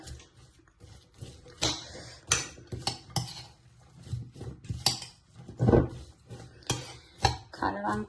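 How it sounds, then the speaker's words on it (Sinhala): Spoon scraping and clinking against a bowl while a sambol of onion, chili and fish is mixed with lime, giving quiet irregular taps and scrapes near at hand, with no talking. "කලවම් කරගන්න"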